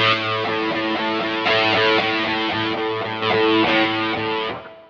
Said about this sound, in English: distortion 3 is like less distortion.